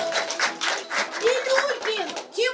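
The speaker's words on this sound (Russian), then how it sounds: "Аплодисменты!" Clapping from an audience after a children's play, scattered hands under lively children's voices and chatter that carry over the applause.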